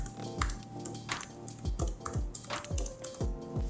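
Quick, crisp keystrokes on a thin Mistel AIRONE compact keyboard tap out in an irregular rhythm, close and fairly quiet, with no voices over them.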